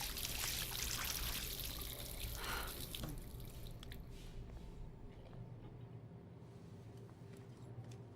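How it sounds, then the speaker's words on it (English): Water runs from a tap in the Life is Strange video game, a loud steady rush for about three seconds that then drops to a quieter, duller flow with a low background hum. "on utilise le robinet pour nettoyer un peu"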